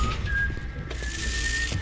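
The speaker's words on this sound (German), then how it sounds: "Irgendwo pfeift einer." A thin, sustained high whistle tone drifts in twice over a busy, rumbling background in the video game BioShock, fairly faint and somewhat distant.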